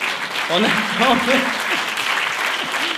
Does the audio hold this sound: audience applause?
yes